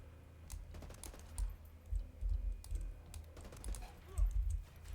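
Quick, light keystrokes patter on a small computer keyboard during a Ghost Recon gaming session, steady clicking close to the microphone with faint room noise and no talk over it.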